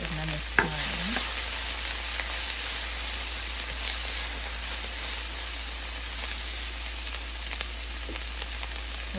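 Sweet pepper palya being stirred in a pan after salt is added, with a steady sizzle and hiss throughout and a few scraping strokes of the spoon against the pan near the start.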